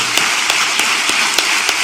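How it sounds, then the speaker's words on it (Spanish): A church congregation applauding together, a steady wash of many hands clapping at moderate loudness, with no voices standing out. "Denle un aplauso a Jesús."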